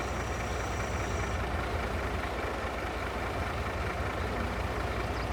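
A Mack truck rated at 768 horsepower in Farming Simulator 22 runs with a loud, steady, rumbling engine roar that holds constant throughout, with no voices.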